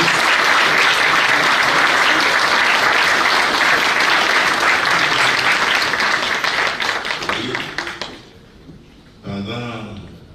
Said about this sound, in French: Je voudrais qu'on applaudisse très fortement les présidents, les animateurs, les panelistes et les panélistes.